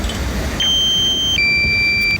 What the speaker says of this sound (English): the remote control starts beeping at you to say, hey, the battery's going low